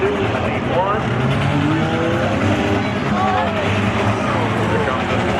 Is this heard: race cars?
yes